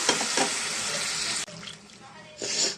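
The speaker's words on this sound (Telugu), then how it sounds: "ఇప్పుడు దీంట్లో కొంచెం వాటర్ వేసుకున్నానండి" A glass of water is poured into chicken curry masala in a pan while making fish fry curry. A steady, close splashing rush runs for over a second, stops, then a second short pour follows.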